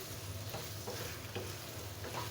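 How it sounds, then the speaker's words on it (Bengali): Chickpeas and potatoes sautéing in a pan give a steady, quiet sizzle and hiss, broken by a few soft scraping stirs. "এখন ভালোভাবে এই আলুর সাথেও কষিয়ে নেব।"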